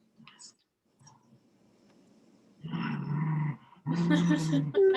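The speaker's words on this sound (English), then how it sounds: "My dogs are being really cute. They're tugging a toy between the two of them." Two dogs, a Jack Russell mix and a Dachshund mix, growl in low rumbling bursts while tugging a toy between them, loud and close, with quieter stretches before the growling swells.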